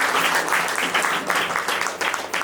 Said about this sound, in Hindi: तालियां बजा के हम उनका स्वागत करते हैं